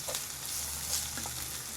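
Ginger garlic paste frying in a pan gives a soft, steady sizzle with faint stirring scrapes, heard alone with no talking.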